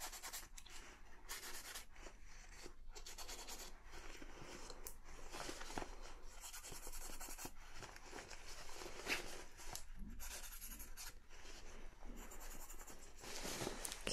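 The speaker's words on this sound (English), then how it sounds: "I'm just going to make some markings where I want to have the new hem" New hem lines are sketched onto fabric during a tailoring alteration: soft, continuous scratchy marking strokes that repeat in short sweeps, faint and close, with no talking.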